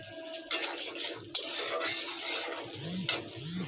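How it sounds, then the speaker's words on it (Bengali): Onion fried light red with ginger and garlic in mustard oil in a pan, made for beef tehari: a steady loud sizzle with repeated metal spatula scrapes and clinks as the mix is stirred, with no voices. "আমি পেঁয়াজটা হালকা লাল করে ভেজে আদা রসুন দিয়ে দিছি আদা রসুনটা দিয়ে একটু জাল দেবো"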